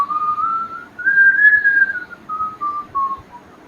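A person whistles a rising then falling melodic line imitating the Silbón, a clear solo whistle in several sustained notes with short breaks and no talking.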